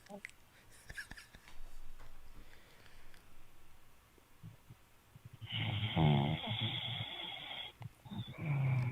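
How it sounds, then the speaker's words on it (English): Deep, rumbling snores come in a couple of long drawn-out breaths, loud and close, with quieter rustling and breathing between them. "Rate this snore in the chat"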